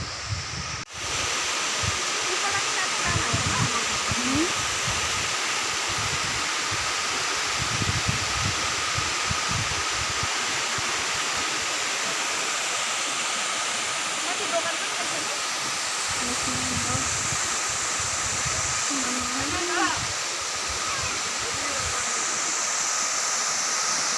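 A waterfall at a viewpoint rushes steadily throughout as a broad roar with wind noise on the microphone, with voices talking intermittently over it.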